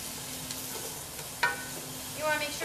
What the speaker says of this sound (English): And stir to combine